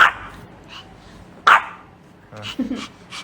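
A dog at home barks in several sharp, loud bursts close by, with short pauses between them and a few softer yips toward the end.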